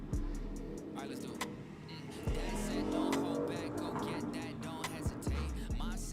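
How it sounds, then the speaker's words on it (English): A loud car roars outside in the background, a steady engine rumble with a few sharp surges, heard under music during a stream. "Loud ass car in the back,"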